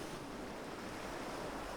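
North Sea waves at night wash in a steady, faint, continuous roar of surf mixed with wind, with no distinct breaks or voices.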